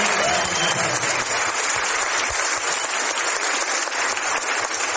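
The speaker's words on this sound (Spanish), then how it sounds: "Yo quiero que les demos un fuerte aplauso porque realmente" Dense, loud applause from an audience at a talk, continuous and steady for the whole stretch.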